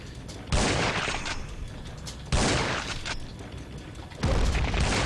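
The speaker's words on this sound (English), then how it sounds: "He's fighting, firing off three rounds at once." A boss in the video game Schuld fires heavy gunfire three rounds at a time, producing three loud, booming volleys spaced a couple of seconds apart, each followed by a decaying rumble.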